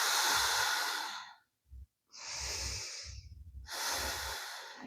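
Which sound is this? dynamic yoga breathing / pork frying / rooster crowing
dynamic yoga breathing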